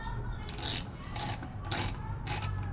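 A hand ratchet clicks in four quick bursts while driving grille bolts into a 2020 Toyota Tacoma, the rapid pawl ticks close and crisp over a low background hum.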